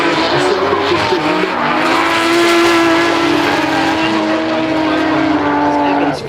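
Drift cars sliding through a corner at the British Drift Championship at Three Sisters, with loud sustained tire squeal and high-revving engines close by, steady and unbroken, while a commentator talks over the action.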